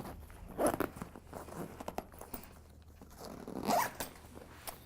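A zipper on the pocket of an archery bag is pulled open and shut in two quick raspy runs, close and clear, with faint handling rustle between them and no speech.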